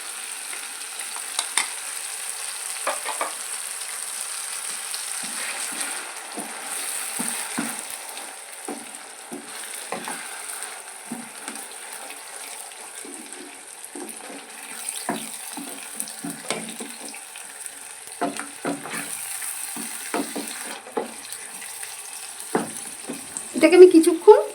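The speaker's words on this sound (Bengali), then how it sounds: "আমি পালং শাকের পেস্টটা দিয়ে দেবো" Spinach paste for palak paneer sizzling and bubbling in a pan, a low, uneven crackle with scattered soft pops and spits, close but fairly faint, with a few louder clatters near the end.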